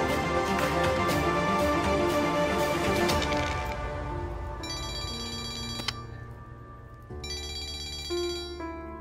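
A telephone rings indoors with a repeating electronic ringtone in short bursts. It starts under a louder musical passage, then sounds clearly on its own with a pause between bursts.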